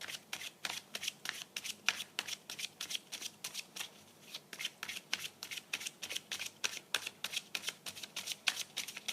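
Tarot cards shuffled by hand in steady, rapid riffling bursts, close and fairly quiet, with a brief pause midway and no talking.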